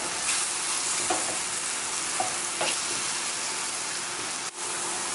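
Onions, peppers, mushrooms and thyme sizzle steadily in a pan, a constant close hiss with a few light stirring scrapes and a brief dip near the end.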